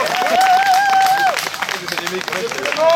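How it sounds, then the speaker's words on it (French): Audience at a medieval fair in Soignies applauding performers after a mercenary show, dense clapping and crowd noise with loud whistles and voices over it, close and steady for a few seconds. "Vous pouvez les applaudir encore bien fort."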